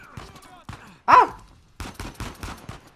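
Sniper fire in Uncharted 4: A Thief's End, with one sharp, loud crack mid-clip set among excited spoken exclamations before and after.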